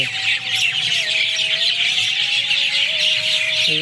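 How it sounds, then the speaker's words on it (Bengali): Many birds call and chirp together on an evening river bank, a dense, continuous chorus of tweets with a few longer sustained whistling notes, loud and close, with no talking. "নদীর পাড়ে আছি পাখির আওয়াজ সুন্দর হয়তো সে আপনাদেরও শোনাই"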